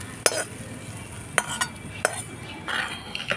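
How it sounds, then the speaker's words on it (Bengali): A spoon stirs spices into paneer khichuri in a pot, giving a few separate scraping clinks and soft knocks spaced over a few seconds, with a faint sizzle underneath and no talking. "আমি মশলাগুলো ভালো করে এর সাথে মাখিয়ে দেব"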